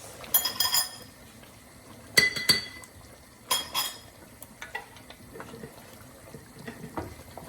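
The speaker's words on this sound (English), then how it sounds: "Give all this a good mix" A spoon stirs lamb and spices in a pot, a few separate clinks and scrapes against metal in short bursts, close and otherwise quiet.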